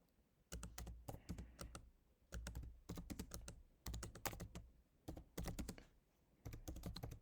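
Quiet, close typing on a computer keyboard as a map title is entered in QGIS, with rapid clustered keystrokes in short bursts and brief pauses between them.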